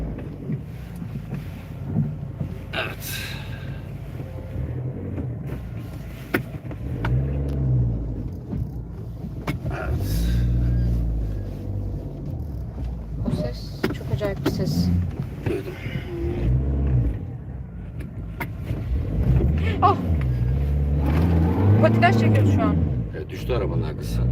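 A car engine rumbles low and steady as the car turns around at night beside water, with wind buffeting the microphone and people talking over it throughout.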